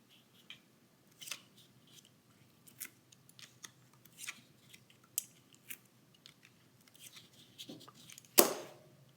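Scissors cut strips of pump lining material in a series of quiet, close, irregular snips with short pauses between them, ending in one louder, sharper snip near the end.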